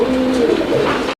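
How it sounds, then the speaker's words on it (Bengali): A male Silver Lahori pigeon coos close by, a soft, throaty, rolling call that rises and falls steadily for about a second with no talk over it. "এটা যেটা ডাকতেছে এটা কি নর?"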